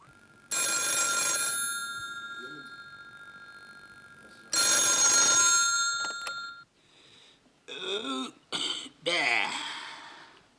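A telephone bell rings in a radio play, two long loud bursts of ringing with a short gap, followed by short broken bursts mixed with other noise.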